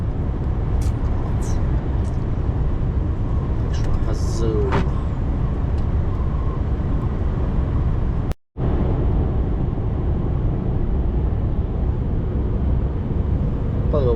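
A truck hauling pipes on a road toward Kinsarvik, Norway, engine droning loud and steady with rumbling road noise throughout and one abrupt brief dropout near the middle.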